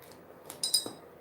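Glasses clink together in a few faint, quick, bright chinks over a quiet room tone, lasting under a second.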